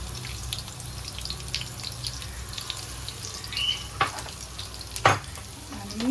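Crushed garlic and asafoetida fry in oil with a low, steady sizzle, broken by a few sharp clinks and scrapes of a utensil and a faint splash of water nearby, with no talk.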